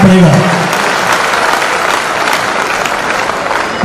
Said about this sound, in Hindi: ताली बजा लीजिए, ये फाइनल है सर